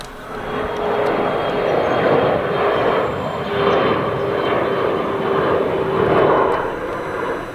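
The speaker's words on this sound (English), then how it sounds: "There's a plane taking off right there." A fixed-wing airplane takes off, its engine roar a steady, fairly loud rumble that swells and eases over several seconds with no voices present.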